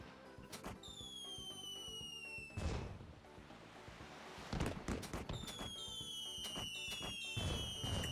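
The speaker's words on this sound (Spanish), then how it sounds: "ya es casi es hora para los fuegos artificiales" Fireworks at a summer festival in the Wii video game Harvest Moon Animal Parade: repeated pops and crackling bursts with rising whistles, spread across the clip at steady moderate loudness, with no talk.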